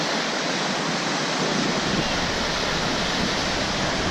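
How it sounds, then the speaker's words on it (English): Rushing whitewater with many white caps at Yellowstone, a dense and steady roar close by that fills the whole stretch without a break. "Water sounds so cool, a lot of white caps."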